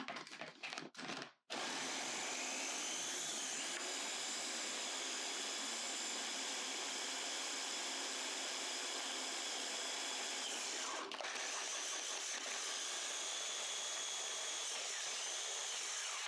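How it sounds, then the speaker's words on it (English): A kitchen blender whirring through green seasoning ingredients, starting with a few short pulses and then a steady, loud, high motor whine that runs continuously, alone without talk. "So let's blend this up, combine it with the green scallions."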